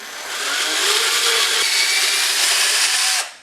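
A power drill bores a dowel hole into wood through a drilling jig in one loud, continuous burst of about three seconds, then winds down.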